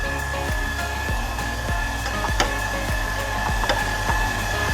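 An electric mixer whirs steadily while beating nastar cake dough, with a continuous motor hum and faint rhythmic ticks of the beaters against the bowl.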